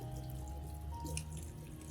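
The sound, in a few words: orchid rinsed with clean water under a tap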